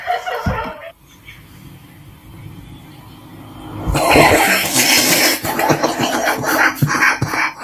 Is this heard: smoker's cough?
yes